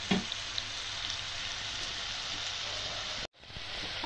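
Chicken pieces fry in oil for a lemon pepper chicken, a steady hissing sizzle running close and even throughout, broken by a brief silent gap near the end.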